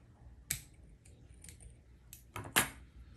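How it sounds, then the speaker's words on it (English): Two crisp snips of scissors cutting thread while tying a fishing fly, one near the start and a double snip near the end, sharp and close against a quiet background. "we'll get our bad pair of scissors just to cut that out of there"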